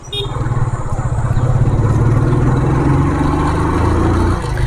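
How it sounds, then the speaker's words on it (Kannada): A tuned engine on a 2003 TVS Fiero F2 motorcycle runs loud and close, a throbbing mid-pitched idle that holds steady with slight revving before easing off near the end. "ಅದೇ ಟ್ಯೂನ್ ಮಾಡಿದ್ದೀನಿ ಇಂಜಿನ್, ಸೊ ಅದಕ್ಕೆ ಆ ಥರ ಸೌಂಡ್ ಬರ್ತಾಯಿದೆ"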